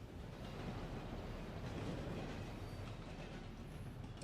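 A train rolls past as a dramatised sound effect in a cowboy tale, a steady heavy rumble and rattle of carriages that holds evenly throughout with no voices.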